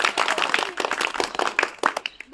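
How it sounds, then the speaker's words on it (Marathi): Children clapping for a correct answer during a school quiz competition: a short, dense patter of many hands, fairly close and lively, fading out after about two seconds. "छान टाळ्या वाजायची यांच्यासाठी"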